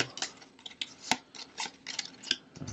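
Playing cards for an Arkham Horror board game, heard as a run of soft, irregular riffling snaps and flicks, fairly close and quiet, with no talking.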